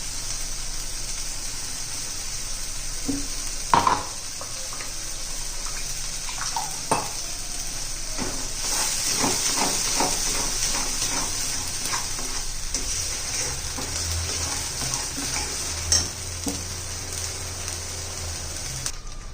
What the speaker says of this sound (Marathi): त्यासाठी चांगलं तेल सुटेपर्यंत आपण परतून घेणार आहोत